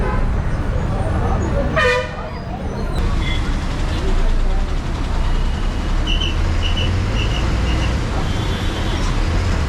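A Chennai MTC city bus pulling to a stop at a bus stop in busy street traffic, with a loud wash of engine and road noise, a horn toot early on, and people talking over it.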